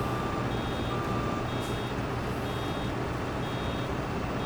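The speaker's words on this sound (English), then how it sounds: "when it starts beeping, I was supposed to unload that bale." A steady high electronic beep from a self-propelled Vermeer baler's full-bale warning repeats at regular intervals over loud, constant engine rumble while baling flax straw.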